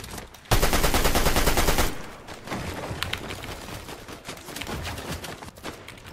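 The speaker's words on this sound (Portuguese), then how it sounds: "Tomei de snipada, Sussu." A sniper rifle shot in a battle royale video game is followed by a dense, loud burst of rapid gunfire and then scattered game sounds and footsteps, with no talking.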